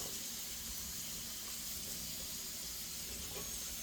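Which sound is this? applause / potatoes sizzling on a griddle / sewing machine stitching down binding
potatoes sizzling on a griddle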